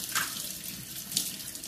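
Warm water runs steadily from a tap while a soapy baby bottle is rinsed at a sink, a continuous close splashing hiss with small surges as the stream hits the bottle.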